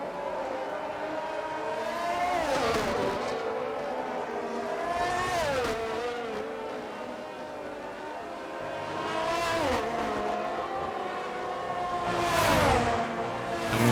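Formula 1 car engines in F1 22 at the British Grand Prix, including an HRC power unit chasing a Ferrari, with high revving tones rising and falling through gear changes as cars pass, under race commentary.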